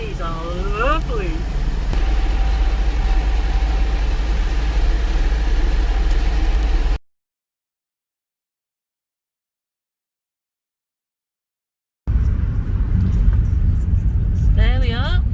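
Massey Ferguson tractor engine running with a low steady rumble, with a voice speaking over it; the sound cuts out to silence for several seconds, then returns.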